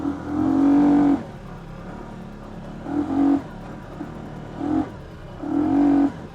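A CFMoto CForce 625 ATV engine revs hard in repeated bursts while the quad drifts in two-wheel drive, four loud, close surges with brief drops between them and no talking.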